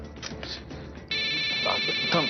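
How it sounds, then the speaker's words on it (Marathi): A mobile phone ringtone starts abruptly partway through and keeps ringing steadily and loudly in a Marathi TV drama scene, with voices speaking over it before and during the ring. "या नंबरवरून मला पण फोन आलाय"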